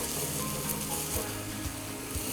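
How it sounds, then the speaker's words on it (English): Garlic sizzling in a hot pan while being stirred, a steady close hiss of frying with faint scraping underneath, continuous and with no talk. "You just want to keep stirring to make sure that that garlic doesn't burn"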